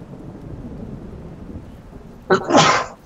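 A single sharp sneeze bursts out after a stretch of quiet low background rumble, loud and close, with a brief catch of breath just before it.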